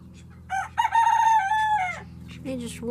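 Chickens on a small homestead raise a loud, urgent alarm call: a drawn-out, rising squawk followed by shorter cackling notes, close by over a faint low hum.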